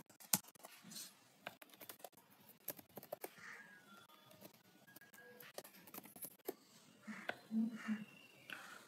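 Someone types a username and password on a computer keyboard, tapping out irregular bursts of quiet key clicks while a person talks softly through it.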